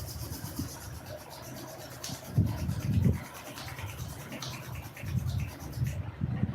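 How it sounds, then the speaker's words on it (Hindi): Two palms rub briskly together in bursts of soft, close friction, some strokes stronger than others, with no talking. "आंखें खोलने से पहले दोनों हाथों को रब करें।"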